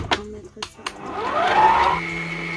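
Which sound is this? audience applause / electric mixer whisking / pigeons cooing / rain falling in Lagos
electric mixer whisking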